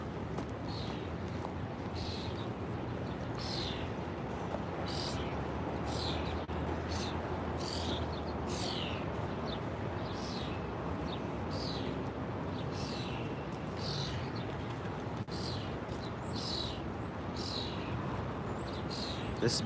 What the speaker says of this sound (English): This bird is so noisy.